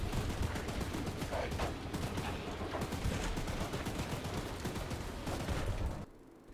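Rapid bursts of gunfire pound against Charles, the monstrous spider-train in the video game Choo Choo Charles, as a dense continuous volley for about six seconds before cutting off abruptly.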